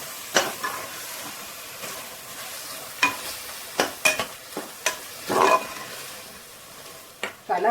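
Curd being stirred into tomato masala frying in a pan for mushroom biryani, a soft sizzle under scattered spoon scrapes and clinks, close by with no talking.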